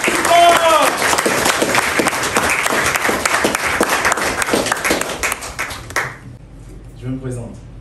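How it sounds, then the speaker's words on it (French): An audience at a business market inauguration applauds loudly, with dense clapping from a large crowd that gradually thins out and stops near the end, after which a single voice begins speaking. "je vous demande encore une fois d'applaudir très fort pour vous-même"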